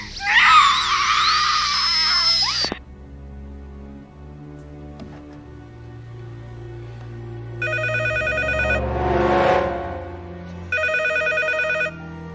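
Telephone ringing in a horror movie, two bursts of a bright electronic trill, each about a second long and a few seconds apart, loud and close, with a shrill scream-like sound and low ambience before them.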